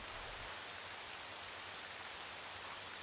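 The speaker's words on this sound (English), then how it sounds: "Yep, it sure is raining" Steady rain falls in the video game Twilight Princess as an even, dense hiss with no breaks and no talking.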